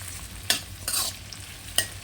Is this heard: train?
no